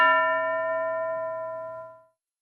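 A single bright bell ding rings during a classroom activity, a clear metallic tone that sounds alone and rings out for about two seconds before cutting to silence.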